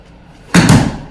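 A ball struck hard and slammed down during coaching, one sharp, loud thud that rings briefly and fades, alone without talk.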